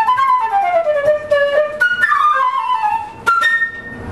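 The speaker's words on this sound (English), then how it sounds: "if you put the flute up and then combine the flutter tongue, it sounds like this." A flute played with flutter tonguing sounds a bright, rolling tone in short phrases, with sliding pitches and a rapid fluttering texture, close and fairly loud with no talking.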